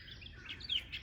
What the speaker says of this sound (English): can hear the birds, don't they sound awesome?